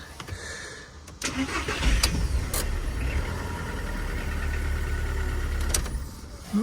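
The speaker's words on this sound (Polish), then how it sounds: "Zobaczymy jak auto odpala na tym czujniku." An Audi A2 1.4 MPI car engine cranks and catches, then settles into a steady, loud idle that continues to the end.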